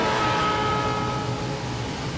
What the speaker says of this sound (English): you hear the pitch of the whistle get lower and lower in frequency